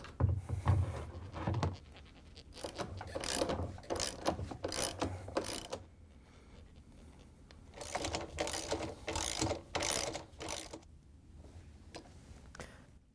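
A hand ratchet tightens a bolt on the counterweight of a Samsung washer tub, coming in bursts of rapid clicking strokes with short pauses between them, close and fairly loud.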